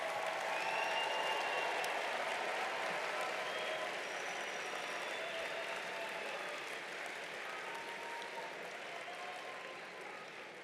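An audience at a university commencement ceremony applauds the 2024 graduates in a long, steady wash of clapping that slowly tapers, with faint cheers and whistles rising now and then above it.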